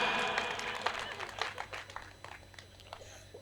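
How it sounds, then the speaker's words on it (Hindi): Thin, scattered clapping from a comedy poetry gathering audience, a modest patter that fades over a few seconds and stays fairly quiet. "तालियां कमजोर हैं"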